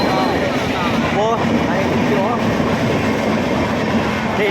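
A train passing nearby, a loud steady rumble with rhythmic clatter filling the whole stretch, while people talk over it.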